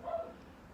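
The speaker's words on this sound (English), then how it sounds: "Sorry about the dogs." Dogs bark in the background during a tarot card reading, with a single brief bark near the start that fades into low room noise.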